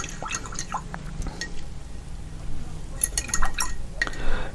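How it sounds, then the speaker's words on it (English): Paintbrush being rinsed in a water container during a grayscale painting session, with soft sloshing, drips and light clinks against the container, close and fairly quiet. "Let's rinse this off real quick."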